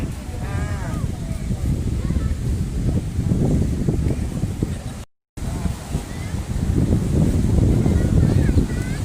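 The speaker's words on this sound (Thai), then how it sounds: "คลื่นแรงครับน้ำใสสะอาด" Strong ocean surf rolls in steadily at Samila Beach in Songkhla, a loud, continuous wash of breaking waves mixed with wind buffeting the microphone, with a brief dropout midway.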